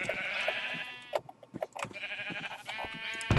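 Sheep bleat in a survival map-making video game, a wavering nasal call repeated a few times with short breaks between, fairly loud and close.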